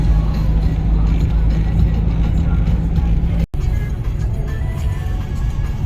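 Loaded straw truck on a road near Aksaray toward Konya, shedding straw as it goes: a steady, close low engine and road rumble running continuously, with a brief cut midway.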